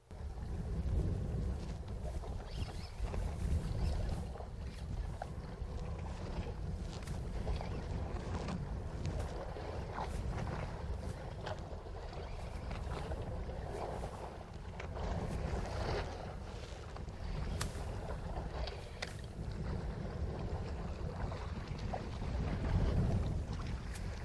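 A Trophy Elite boat runs steadily across the water, its engine and hull noise forming a continuous loud rumble mixed with wind buffeting the microphone.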